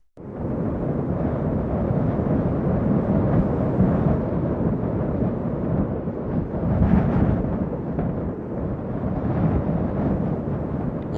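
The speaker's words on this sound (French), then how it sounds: "Une tempête nous avala." A storm roars as a dense, continuous rumble, swelling briefly partway through.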